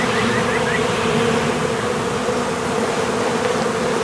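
Honey bees buzz around a hive during a package installation, a dense, steady, close hum with no pauses.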